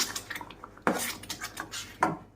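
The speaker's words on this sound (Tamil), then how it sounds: "இப்போ இதை சேர்த்துட்டு நல்லா வந்து கலந்து கொடுத்துக்கலாம்" Salt being stirred into curry leaf thokku in a pan, a spoon knocking and scraping against the metal in a few quick, close clinks and clatters with no talk.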